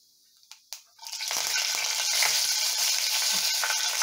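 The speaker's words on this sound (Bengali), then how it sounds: "এবার ওই তেলে আমি 1/2 চামচ কালো জিরে আর 3টে কাঁচা লঙ্কা চেরা দিয়ে দিলাম।" Nigella seeds and slit green chillies hit hot oil with a couple of sharp pops, then burst into a loud, steady sizzle and crackle that fills the rest of the moment, oil left over from frying pabda fish.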